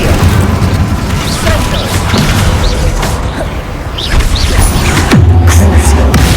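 Incendio fire spell cast in Hogwarts Legacy, a loud burst of booming, crashing magic effects mixed with other combat impacts and whooshes.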